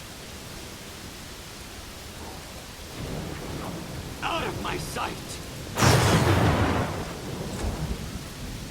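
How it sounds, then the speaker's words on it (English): Heavy rain pours in a steady loud hiss throughout, joined by a rumbling burst partway through, while a voice speaks briefly over it. "Sorry, the rain is very loud."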